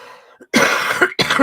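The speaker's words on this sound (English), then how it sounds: "Sorry about the coughing." Two harsh, loud coughs close to the microphone, one long burst followed by a short second one after a brief gap.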